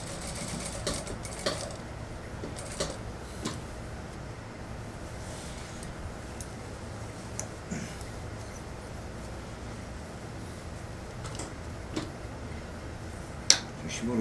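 A sewing machine stitches a flight jumper during an alteration repair, running in a quiet, steady whir with faint ticking clicks, close by, with a little talking underneath.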